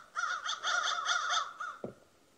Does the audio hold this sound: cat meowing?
no